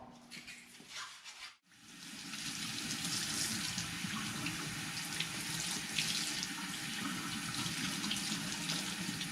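Aquarium items for an axolotl tank being rinsed under a running kitchen tap, a brief rattle of handling before a steady, close rush of water splashing in a sink.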